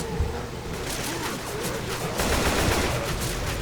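Dense, continuous AK rifle gunfire and game din from a Left 4 Dead 2 finale level, packed with overlapping shots at moderate loudness.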